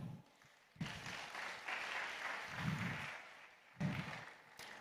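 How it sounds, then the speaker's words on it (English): Applause from an audience at a live dialogue festival, a broad sustained wash of clapping that swells in waves and stays steady throughout, with no voices speaking over it. "help me welcome Andre on stage with a round of applause"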